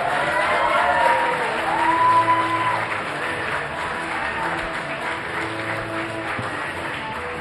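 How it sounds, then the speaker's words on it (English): A comedy-club audience welcoming a performer onstage, a dense continuous wash of clapping with a crowd murmur underneath, fairly loud and steady throughout. "Start stamping your feet. Start clapping your hands."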